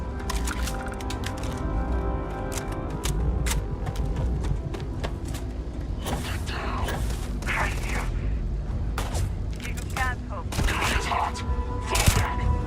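Rapid bursts of gunfire and explosive blasts from a sci-fi space shooting game, dense and continuous with sharp cracks throughout, a player talking over the combat.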